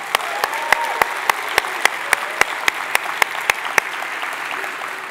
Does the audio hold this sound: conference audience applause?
yes